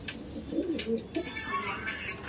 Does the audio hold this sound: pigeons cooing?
yes